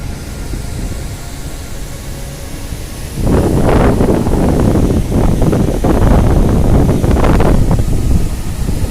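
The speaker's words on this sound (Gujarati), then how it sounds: "તમે જુઓ એની કેટલી તીવ્ર ગતિથી પાણી આવી રહ્યું છે" Fast-flowing water of the Brahmani river rushes past as a loud broadband roar, swelling after a calmer opening, with heavy wind buffeting on the microphone and no voices.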